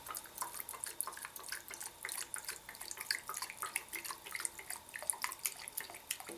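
Denatured alcohol trickles into a small soda can stove, a quiet, close, uneven stream of light splashing and dribbling with no talking.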